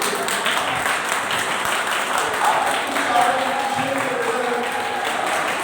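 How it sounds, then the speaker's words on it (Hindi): Audience applause welcoming student award winners at an excellence award ceremony, a steady wash of clapping throughout at moderate level, with voices mixed in underneath. "तो चूंकि ये विनर्स हैं तो इनका स्वागत तालियों से ही होना चाहिए।"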